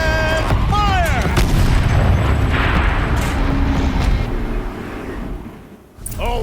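Heavy turret fire from a war machine in Horizon Zero Dawn, loud booming blasts rolling out in a dense barrage that fades near the end before a last burst returns, with game voices over the top.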